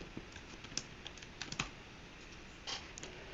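Typing on a computer keyboard while writing code, a quiet run of irregular light key clicks with a few sharper taps and brief pauses, close by with no talking.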